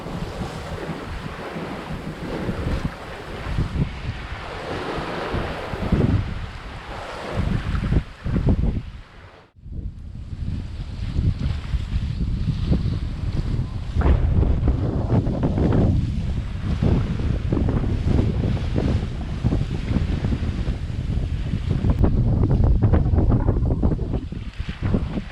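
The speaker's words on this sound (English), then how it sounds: "Not much to be seen, and you just hear the wind and the waves." Wind buffets the microphone while waves wash steadily against a sailboat on a night passage at sea. The roar stays loud and continuous throughout, with one brief dip, and no one speaks.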